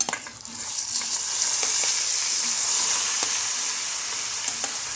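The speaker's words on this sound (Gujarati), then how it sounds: "3 મોટા ચમચા જેટલું તેલ નાખેલું છે અને ગરમ થઈ ગયું છે, એટલે હવે આપણે થોડી હિંગનો વઘાર કરીશું. એમાં આપણે કેળા નાખીશું." Ripe bananas drop into hot oil tempered with asafoetida, and a steady, close sizzle rises and holds with faint stirring clicks throughout, no voices.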